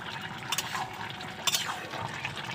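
Lid lifted off a pot of chicken and jackfruit curry simmering on the stove, a couple of brief metallic clinks over a soft bubbling hiss.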